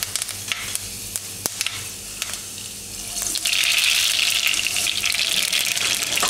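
Fenugreek seeds drop into a tablespoon of hot oil for an aubergine and potato masala curry, a quiet crackle that swells after a few seconds into a loud, dense, steady sizzle, with no voice over it.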